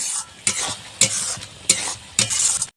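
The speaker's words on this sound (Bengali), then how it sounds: "গরম মশলা দিয়ে একটুখানি নাড়া দিয়ে এখন নামিয়ে দেব" Banana flower curry being stirred in a pan after garam masala goes in, with five or six distinct sizzling scrapes in a steady rhythm, close and fairly loud.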